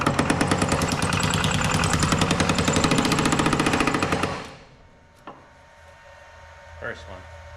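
A power hammer pounds metal in a rapid, steady mechanical rhythm for several seconds during thumbnail shrinking, then stops, leaving a quiet room with a few faint knocks.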